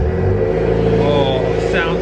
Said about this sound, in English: So just letting it idle and revving it a little bit, it sounds so good.